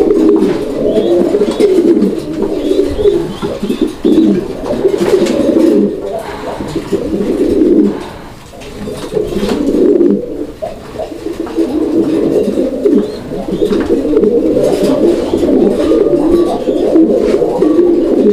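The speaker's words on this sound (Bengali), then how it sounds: "তো যাই হোক দর্শক, আপনারা দেখতেই পাচ্ছেন কবুতরের" Fancy pigeons for sale in Bangladesh coo loudly and close by, with overlapping throaty coos that swell and ease in a steady run throughout and no talk.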